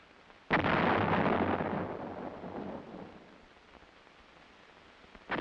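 A single towed 105mm howitzer fires with a loud, sudden boom that rolls and rumbles as it fades over several seconds. A fresh blast begins right at the end.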